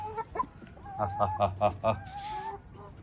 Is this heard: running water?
no